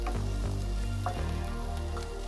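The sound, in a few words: ginger, garlic, chili and curry leaves frying in pan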